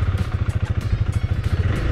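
Husqvarna Vitpilen 401 single-cylinder 400cc motorcycle engine, steady pulsing thump at close range, loud and continuous with a rapid even rhythm, no talking.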